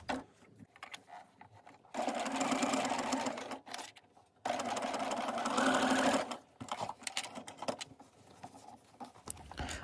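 A sewing machine stitches through a quilted hot pad with insulating batting, running in two sustained rapid-stitching bursts separated by brief pauses and quieter handling sounds.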